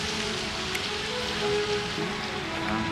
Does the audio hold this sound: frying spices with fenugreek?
no